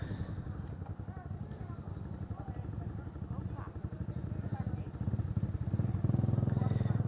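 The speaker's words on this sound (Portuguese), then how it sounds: "Parece que a moto do Antônio deu um problemazinho aqui." A motorcycle engine idles and runs at a roadside motorcycle repair shop after a minor breakdown, a steady low chugging throb that grows slightly louder toward the end, with voices talking over it.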